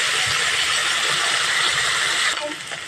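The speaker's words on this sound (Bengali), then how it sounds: "গ্যাসের ফ্লেমটা মিডিয়ামে রেখে ডাঁটাগুলোকে আমি একটু ভেজে নেব" Drumstick (moringa) pieces fry in a pan over a medium gas flame, giving a steady, dense sizzling hiss close by that thins out near the end.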